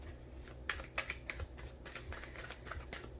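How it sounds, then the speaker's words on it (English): A Fountain Tarot deck is shuffled by hand for a Celtic cross spread, with quiet papery riffles and soft irregular card slaps close by, several crisp flicks standing out over a low room hum. "I wait for one card to drop, and that's my sign. That's the end of the shuffle."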